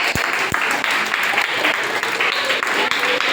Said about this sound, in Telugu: మిగతా వాళ్ళందరూ క్లాప్స్ కొట్టండి వాళ్ళకి